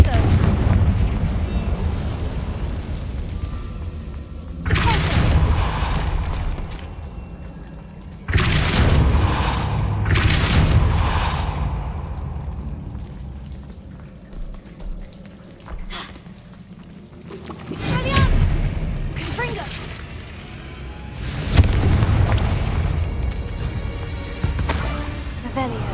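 Confringo blasting spells go off in Hogwarts Legacy, producing a series of deep, loud booming explosions in irregular bursts. Rumbling fills the quieter stretches between blasts, and in-game voices talk in between.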